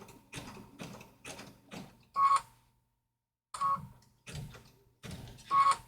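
A sewing machine works a satin stitch in short rapid mechanical bursts, pausing briefly between runs, with a couple of sharp beeps at close range and no voice.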